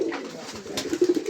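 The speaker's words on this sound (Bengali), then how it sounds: "এখানে আছে এক জোড়া বড় পায়রা লাল সাদা" A pair of large red-and-white pigeons at a pigeon farm in Gopalganj coo close by, soft throaty murmurs rising into a few short repeated coos.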